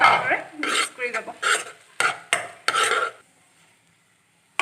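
A spoon stirs bread crumbs into hot milk in a pan over a low gas flame, giving close, distinct scrapes and clinks against the metal in a quick uneven rhythm before it goes quiet.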